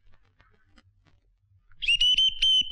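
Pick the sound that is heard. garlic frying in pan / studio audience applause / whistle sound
whistle sound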